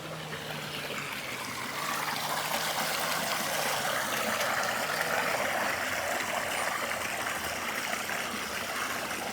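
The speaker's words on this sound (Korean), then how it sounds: "자연 계곡이네요. 그냥 자연 계곡." Water pours continuously along a natural valley stream in the Laos mountains, a loud, even rush heard up close throughout, with no one speaking.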